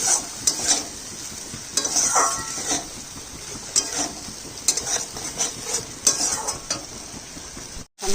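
A vegetable curry gravy with whisked curd and water bubbles in a pan, a continuous close sizzle broken by repeated scraping and clinking of a spoon stirring against the pan.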